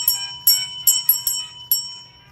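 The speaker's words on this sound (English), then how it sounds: "you also get a bell" A small hand bell rung at a live rock and mineral sale, six bright metallic strikes in an uneven rhythm, each ringing out and decaying, fairly close, with no talk over it.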